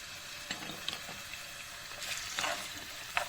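Onion and a carrot sautéing in oil in a pan, a faint steady sizzle with soft scattered crackles and stirring clicks, quiet and close, with no talking.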